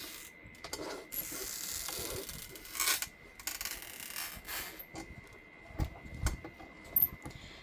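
A new Stampin' Up! Cut & Emboss die-cutting machine is cranked by hand, giving a ratcheting, grinding mechanical rasp in repeated strokes with brief pauses and a few louder clicks, close and fairly quiet.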